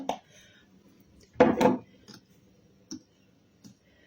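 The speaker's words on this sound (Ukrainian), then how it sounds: "це я зараз гарненько перемішаю" A spoon stirs cake batter in a mixing bowl, giving a few soft clinks against the bowl and one short, louder scraping burst midway, then sparse light taps with no voices.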